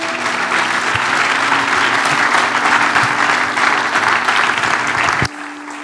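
Congregation applauding during a church service, loud sustained clapping from a large crowd that holds steady for several seconds, then cuts off abruptly near the end, leaving a quiet hum.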